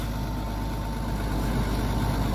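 A Ford 7840 tractor engine drones at a low, even pitch while pulling a DACA360 implement in the rain. The rumble stays constant and fairly near throughout, without speech.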